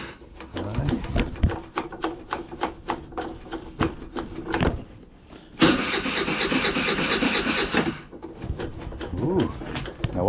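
An abandoned scooter being cranked by its starter, with repeated stuttering whirring bursts and clicks, then a sustained grinding crank lasting about two seconds before more short attempts.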